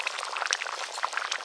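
A pot of crab and fried eggplant curry simmers on the stove, giving off a soft, steady patter of small bubbles at close range with no voices.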